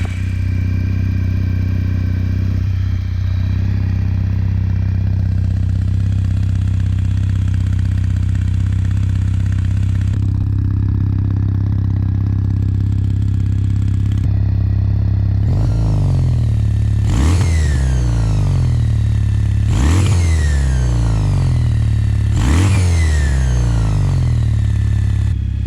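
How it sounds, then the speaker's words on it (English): A stock-exhaust Kawasaki W800 Cafe motorcycle idles with a steady, low thrumming rumble for about fifteen seconds, then gets blipped through three sharp revs that swell and fall back to idle, loud and close. "It is a really low, satisfying rumble to the exhaust."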